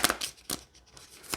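Tarot cards from a crystal unicorn deck shuffled by hand, with long nails: a few short papery riffles and slaps in brief separate bursts, close and fairly quiet.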